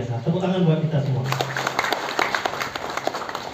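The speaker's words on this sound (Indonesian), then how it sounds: "Tepuk tangan buat kita semua" At a village-leadership presentation, a voice finishes speaking, then an audience breaks into moderate, uneven clapping, individual claps audible rather than a dense roar.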